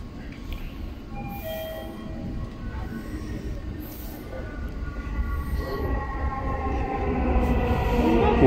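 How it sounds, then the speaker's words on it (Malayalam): A Dubai Metro train pulls into a station platform, a low rumble and rolling rattle growing steadily louder over several seconds, with faint high tones and a distant public-address voice in the background. "Your attention please. The train to Rashidiya will arrive at platform 1."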